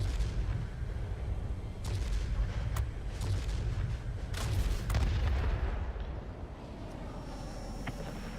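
Bursts of heavy aircraft cannon fire in World of Warplanes boom repeatedly over a constant low engine roar of an Alekseyev I-215 fighter, with sharp cracks scattered throughout before the firing eases near the end.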